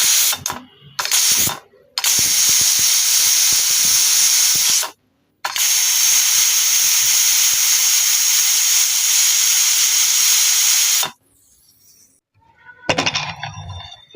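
A pressure cooker full of khichuri vents steam in loud, sustained hissing blasts, with a short sputter, then two long rushing releases of about five seconds each, ending in quieter scattered spits.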